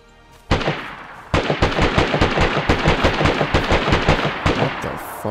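Loud, close gunshots ring out in DayZ, beginning with one sharp crack and then settling into a steady, rapid series of evenly spaced shots that continues to the end, with no talking.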